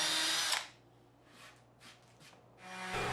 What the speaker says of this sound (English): Make sure that you drill and countersink the holes deep enough